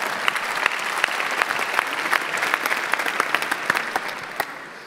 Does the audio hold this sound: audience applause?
yes